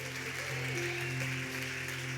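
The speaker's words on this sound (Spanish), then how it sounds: "dale ese fuerte aplauso a Jesús" A church congregation applauds for Jesus during a sermon. The steady clapping is faint and diffuse, with sustained organ or keyboard tones underneath.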